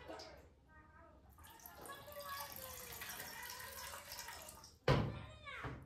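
Water pours from a jug into a container for making tea, a steady trickling splash with rising pitch as it fills and a sharp splash near the end; a voice talks over parts of it.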